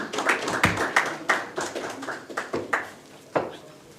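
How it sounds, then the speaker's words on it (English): Sparse, uneven clapping from a small audience at a formal launch event, individual hand claps standing out as distinct sharp hits rather than a dense roar, tapering off toward the end. "Let's applaud her as she comes to the podium,"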